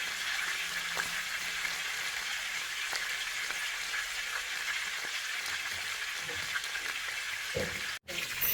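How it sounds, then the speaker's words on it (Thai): Pork fries in oil in a pan over medium-low heat, giving a continuous close sizzle with faint pops and a brief stir near the end. "ใช้ไฟกลางค่อนไปทางอ่อนนะครับ ทอดไปเรื่อยๆ ทีละด้านนะครับ"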